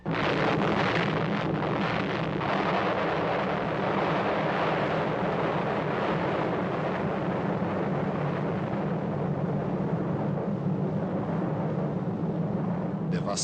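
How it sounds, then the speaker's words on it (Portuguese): A city-destroying explosion in a documentary excerpt comes through as a loud, sustained roaring rumble lasting over ten seconds, dense and unbroken, with no talk over it. "A explosão, que durou apenas 1/1000 de segundo, criou uma bola de fogo mais quente do que a superfície do Sol."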